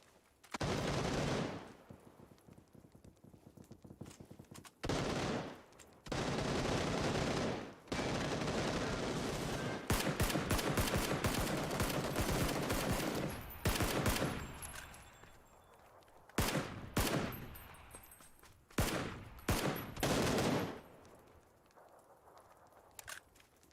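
Video game gunfire on Stadia comes in loud bursts, sustained volleys broken by short pauses, with sharper isolated shots toward the end, close and dominant with no talk over it.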